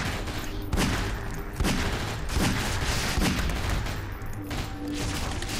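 Gunfire in the horror shooter Nightmare House 2, a dense run of loud, rapid shots and bursts that overlap continuously for several seconds with booming impacts.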